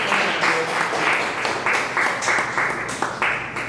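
Comedy club audience applauding steadily, a dense wash of many hands clapping at close range with no voices over it.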